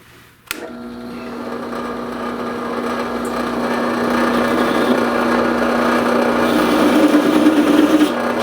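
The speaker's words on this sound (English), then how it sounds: "I've got this chucked up in my vertical wood lathe, otherwise known as a drill press" A drill press used as a vertical wood lathe spins a wooden loom part while it is shaped with a wood rasp, giving a steady close motor whine with rasping scrape that starts abruptly and grows slightly louder.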